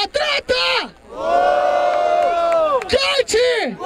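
A rap battle crowd roars with sustained cheering, whooping and shouting, loud and close, with a long unified bellow in the middle and sharp bursts of yelling before and after.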